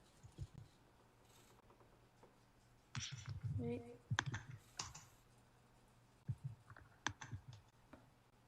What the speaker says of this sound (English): hit the C key on your keyboard